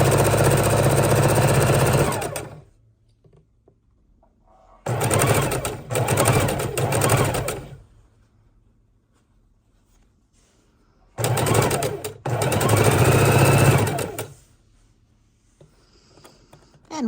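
A sewing machine stitching a three-strip quilt border, loud rapid mechanical chattering in three bursts of a few seconds each, separated by near-silent pauses while the fabric is adjusted.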